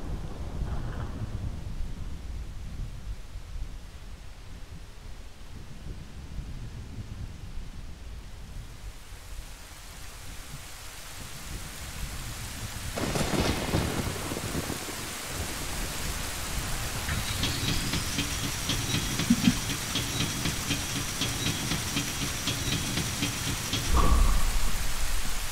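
Thunderstorm with steady rain from the video game The Legend of Zelda: Ocarina of Time, with a continuous hiss of rainfall broken by a sharp thunder crack midway and a rumbling roll near the end.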